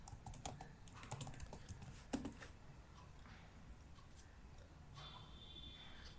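Rapid typing on a computer keyboard, a quick patter of key clicks with a few sharper strikes early on, then fewer, lighter taps fading toward the end.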